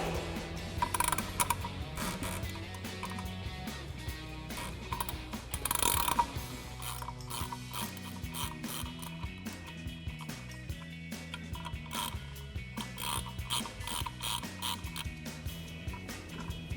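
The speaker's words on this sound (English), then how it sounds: "we're gonna grab a 14mm ratcheting wrench and a 5mm wrench to hold the top" A 14mm ratcheting wrench working the top shock mount nut on a 2016+ Toyota Tacoma, giving long runs of rapid close clicking ratchet strokes with brief pauses and a few metallic knocks.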